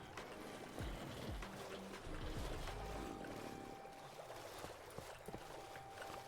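Ambient water in a video game, a soft, steady wash of flowing and lapping water, faint throughout with scattered small clicks and knocks over it.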